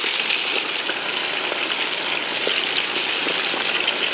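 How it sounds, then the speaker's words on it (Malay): Chicken pieces coated in salt and turmeric fry in oil left over from frying onions, giving a steady, close, dense sizzle and crackle with no pauses and no voices. "ayam ni tadi kita goreng"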